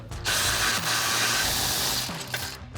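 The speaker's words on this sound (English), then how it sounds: "we're gonna grab our 16mm socket and remove those" A ratchet fitted with a 16mm socket backs out bumper bolts on a Jeep Wrangler JL, giving a loud, fast, continuous clicking close by in two bursts with a brief pause between them.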